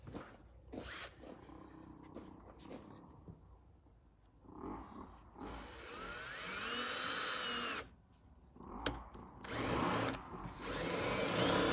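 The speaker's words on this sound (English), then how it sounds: "razor sharp drill here" A razor-sharp power drill working through a template during a kitchen build, running in several whining bursts with short pauses between, the last runs long and loud.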